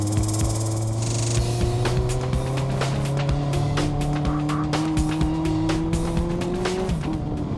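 A semi-professional race car drives hard, its engine note rising and falling through the gears while the tires squeal continuously, loud and close, with no talk.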